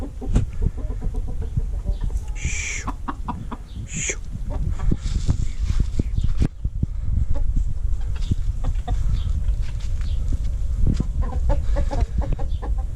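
Several laying hens cluck and squawk close by in a busy, noisy coop as new purebred hens are introduced, with a couple of louder calls standing out over the constant scratching.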